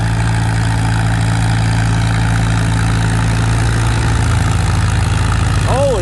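An antique Farmall tractor engine labors loudly and steadily at a tractor pull, a deep continuous droning rumble close by, with a crowd and voices faintly beneath.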